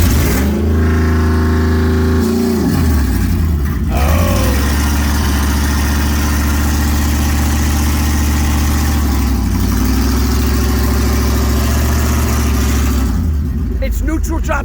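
A Ford truck engine revs hard, drops sharply into gear from neutral and climbs again, then settles into a loud, rough idle close by.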